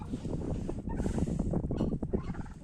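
Turkeys gobbling in loud, rapid, overlapping bursts close by as poultry are let out of their coop, a continuous chorus with no talk.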